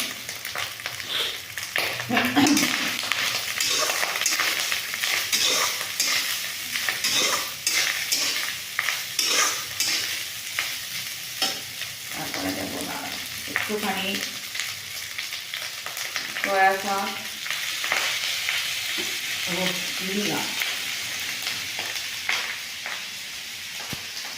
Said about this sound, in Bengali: এবার এখানে দিয়ে দেবো এই যে ভাজা করা সব সবজিগুলো